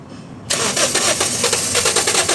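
A Toyota Vios engine, just fitted with a new fuel pump, cranks and fires at once, settling into a loud, steady running roar with a rough pulsing texture, no voices over it.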